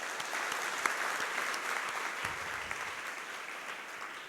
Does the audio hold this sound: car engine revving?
no